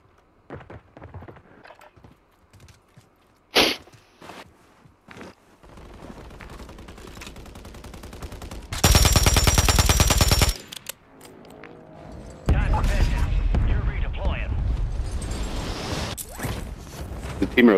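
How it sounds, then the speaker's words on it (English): Gunfire in Call of Duty Warzone, scattered shots and a loud sustained burst mid-way followed by more heavy firing, with players talking over it at times. "Shooting over here."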